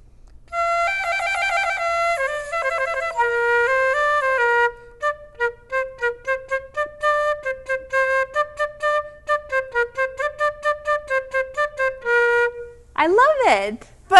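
A flute head joint fitted with only its foot joint plays a few sustained pitched tones, then a quick run of short tongued notes, ending with a rapid swooping slide up and down.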